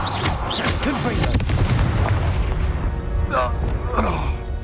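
Confringo blasting spell explosion in Hogwarts Legacy, a booming impact mixed into noisy combat with overlapping voices, followed by fading rumble.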